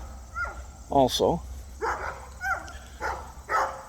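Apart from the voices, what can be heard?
neighbor's dogs barking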